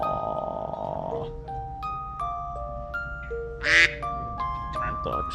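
Ducks give a run of close, nasal quacks in short uneven bursts over a quiet background, with one louder, breathier call near the end. No one talks.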